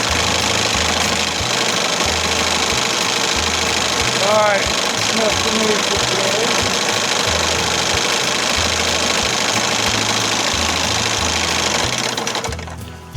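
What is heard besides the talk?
1968 Evinrude Fisherman 6 hp outboard motor running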